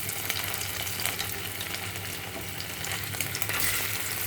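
Taro root pieces for dum arbi sizzle and crackle steadily in hot oil, a dense, continuous frying hiss close by with faint stirring, no voices.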